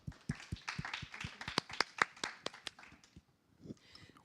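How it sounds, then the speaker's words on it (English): Scattered clapping from a small audience at a blockchain conference panel, a sparse handful of distinct claps that thin out and fade after a few seconds, fairly quiet and with no talk over them. "So big applause for our panelists"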